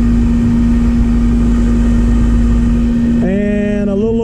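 An HVAC condenser motor with worn, unhealthy bearings runs loud and close with a steady hum, then shifts in pitch near the end as it slows or changes speed.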